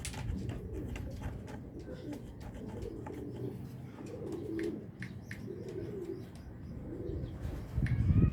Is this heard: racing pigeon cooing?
yes